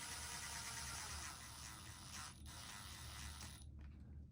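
A screwdriver drives screws into plastic link risers on an Axial Mini Capra UTB18 1/18 scale RC rock crawler, giving a steady close grinding, ratcheting whir that runs for several seconds and stops near the end.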